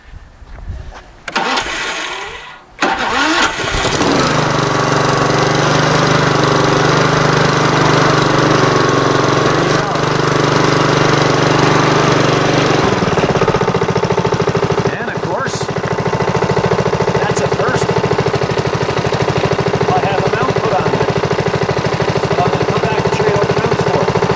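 A lawn mower engine sputters, catches and then runs steadily at a loud, constant idle, close by, with a brief dip partway through.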